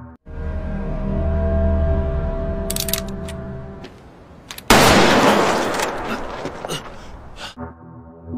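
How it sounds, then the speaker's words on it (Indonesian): A single sudden gunshot in a Squid Game episode bursts out about midway through tense dramatic music and then decays into the score. "Namun Junho justru menembak tubuh frontman."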